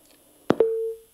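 A telephone line drops a call and gives a short click, then a brief double blip, then a steady clear tone that holds for about half a second.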